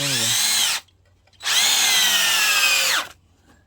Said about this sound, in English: I'm putting 3-inch screws down in it